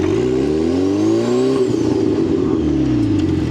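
A car fitted with a Wilwood tandem master cylinder brake system revs loudly nearby. The engine pitch climbs hard, then eases back, under a rough, steady roar.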